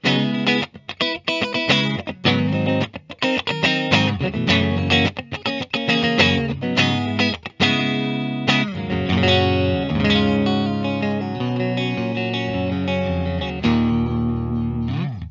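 A 2022 Fender Ultra Luxe Jaguar electric guitar on the middle pickup position, played through effects, with quick strummed and picked passages at first, then ringing sustained notes with a slight chorus shimmer.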